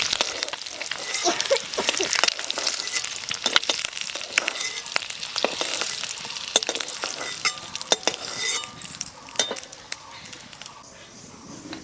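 Whole cumin seeds and a bay leaf crackle and sizzle in hot oil, with a steady, busy fry and scattered sharp pops and scrapes of stirring close by.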